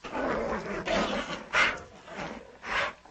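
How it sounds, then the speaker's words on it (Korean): A dog growls and barks in a series of about five rough, snarling bursts spaced unevenly over three seconds, close and moderately loud with no talking. "그때 무섭게 으르렁대며 짖는 소리가 그녀의 말을 가로막고 말았다"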